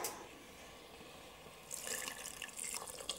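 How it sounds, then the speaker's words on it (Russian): Water runs from a tap into a soup pot holding potatoes, a steady splashing stream starting partway through after a quiet stretch, close by. "Заливаем водой"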